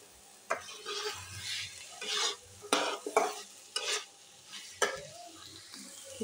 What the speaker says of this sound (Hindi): पनीर डालने के बाद इसको अच्छे से मिक्स करेंगे इसमें भूनने के लिए।